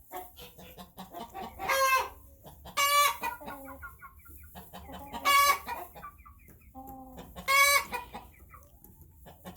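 Hens cluck and squawk in short bursts, with loud calls coming every couple of seconds over quieter background clucking; no one speaks.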